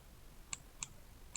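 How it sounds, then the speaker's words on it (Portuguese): Soft mouse clicks in quick pairs over faint background hiss, crisp and close but quiet. "Aqui vou dar 2 cliques"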